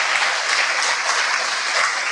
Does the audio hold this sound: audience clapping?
yes